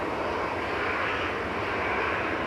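A KLM airliner landing at Manchester Airport fills the air with a loud, continuous broadband engine roar that stays steady and close, with no voices over it.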